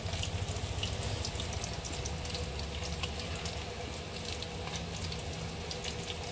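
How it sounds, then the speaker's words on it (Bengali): Chicken pakoras deep frying in oil: a faint, continuous bubbling crackle with dense tiny pops, steady throughout and heard at some distance, without speech. "এদিকে পকোড়া ভাজা হচ্ছে"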